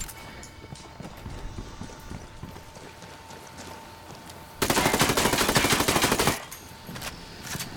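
Rapid automatic gunfire bursts loudly for about two seconds in the middle of Ghost Recon Wildlands gameplay, set against quieter rhythmic game sounds before and after.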